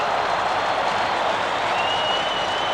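Crowd at a 1984 Australian football match erupting after a spectacular mark, a dense, sustained roar and applause filling the stadium at steady loudness, with no voices standing out.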